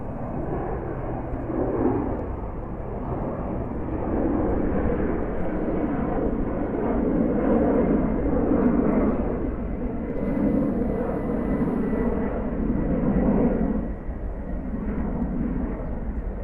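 Air Serbia airliner taxiing off the runway at JFK, a continuous low jet-engine rumble and whine heard from a distance, with gentle swells in loudness.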